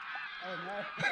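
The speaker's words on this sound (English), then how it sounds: "The geese aren't happy." Geese honk along a river on a kayaking trip, a cluster of harsh, nasal calls close by, with a voice briefly heard near the end.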